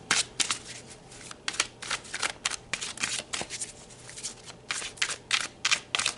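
Tarot cards riffled and shuffled by hand in repeated crisp bursts, close and fairly quiet, with short pauses between the flutters and no talking.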